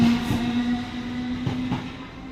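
A class 455 electric multiple unit pulling out of Raynes Park station on the South Western Main Line, a steady rolling rumble with a couple of soft wheel clunks, moderately close, with no talk.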